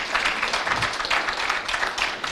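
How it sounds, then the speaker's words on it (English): Warm audience applause at an arts festival summit session, a steady dense patter of many hands clapping throughout, fairly close and even in level. "You have a warm applause."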